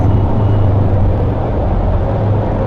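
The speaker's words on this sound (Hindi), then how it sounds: "शोर बहुत होता है इन टनल्स के अंदर, बहुत ही ज़्यादा, हद से ज़्यादा ट्रैफिक है।" Dense traffic roaring inside a road tunnel in Kashmir, a loud, constant rumble of engines and rushing air with a deep low hum and no breaks.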